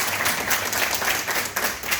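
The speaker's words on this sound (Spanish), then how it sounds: "Un aplauso para él." Brief, steady applause rises from an audience at an evening conference on extraterrestrial contact, a close wash of clapping hands.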